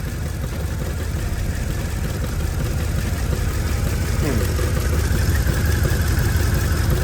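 A Mercedes GL450 engine with misfires idling, a steady, loud, close rumble that holds evenly throughout with a faint mechanical hum on top and no talking.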